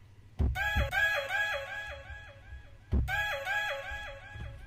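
A beat made in MPC Essentials plays two phrases, each opening with a punchy drum hit followed by bright synth notes that repeat as fading quarter-note-triplet delay echoes, heavily damped.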